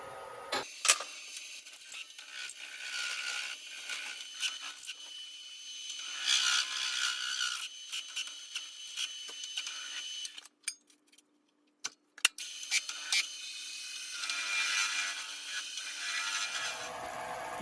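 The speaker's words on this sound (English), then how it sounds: "now I've got it chucked up, it's spinning. I'm going to true up the whole stock." A wood lathe spins spinning-top stock while a cutting tool trues it up, making faint, uneven scraping and rubbing passes with a short pause partway through.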